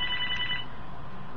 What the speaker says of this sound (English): Well, that's a phone call already, because the other person got it already.